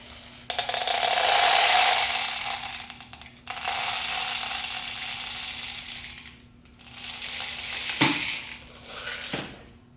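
A paper bridge crushes and gives way under load with sustained crumpling and crackling in several long bursts. One sharp snap near the end marks the failure.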